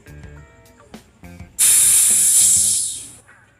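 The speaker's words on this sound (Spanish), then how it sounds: "Para retirar el aire solamente presionamos ahí." Air released from a Rock Shox rear bicycle suspension valve during maintenance: a few small clicks and taps, then a sudden loud, close hiss lasting about a second and a half before fading out.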